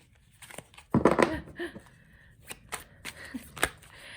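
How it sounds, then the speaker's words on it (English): A deck of tarot cards is shuffled by hand in a few quick riffling bursts with crisp snaps and soft slides between them, close and clear with no talking. "I'm just trying to shuffle a couple more times"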